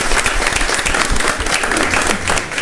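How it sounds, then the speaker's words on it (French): Dense, steady audience applause fills a live midday television broadcast, many hands clapping loudly and evenly throughout with no talk over it. "Triomphe d'applaudissements également."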